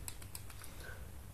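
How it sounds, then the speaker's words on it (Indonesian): Buttons on a fidget cube click in a quick run of small, sharp taps, close and fairly faint over a low background hum. "Ini lumayan ada bunyi. Klik-klik."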